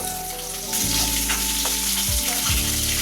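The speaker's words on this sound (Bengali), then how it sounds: "এখন আমি বাকি মাছগুলোকেও একইভাবে ভেজে নিচ্ছি" Rohu fish pieces fry in a pan with a steady, loud sizzle and crackle that swells after the first second, with some low knocking bumps, and no voices.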